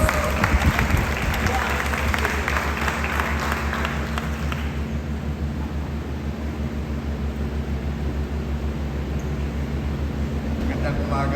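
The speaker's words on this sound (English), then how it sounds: "Let's give him a round of applause, please." An audience at a Philippine government technology event applauds to welcome an official, heavy clapping at first that thins into a softer, steady crowd patter over a constant background hum.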